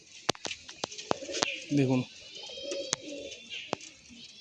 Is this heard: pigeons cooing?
yes